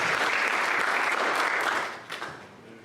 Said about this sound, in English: give him a round of applause as he makes his way up here